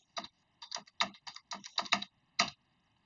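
A computer keyboard is typing a terminal download command during a BlackArch Linux install. About eight crisp, close keystrokes come in quick, irregular bursts over roughly three seconds, with no talk.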